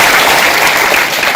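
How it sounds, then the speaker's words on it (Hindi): Loud, dense applause from a seminar audience on youth and a drug-free society, a continuous wash of many hands clapping together. "तालियों से इनका सम्मान करें।"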